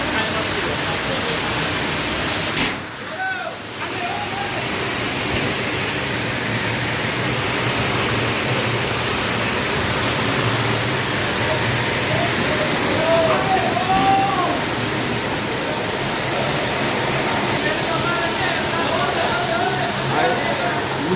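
A machine hulls pistachios with water, stripping off the outer skin, giving a loud, steady rushing and sloshing wash. People talk over the noise.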